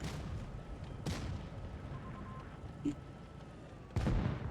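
Two sharp tank cannon booms from the K-2 in World of Tanks Blitz, one early and one near the end, over a steady low rumble, with a faint mechanical clunk in between.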